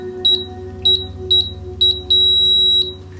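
A Black Mirror Plus coffee scale beeps as its button is pressed five times: four short, evenly spaced high beeps, then a longer sustained tone, over a low steady hum.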